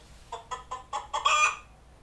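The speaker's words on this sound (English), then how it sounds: "The hen lays eggs for the farmer" A farm hen clucks about six times in a quick rhythmic series, growing louder into a final drawn-out squawk, close and alone.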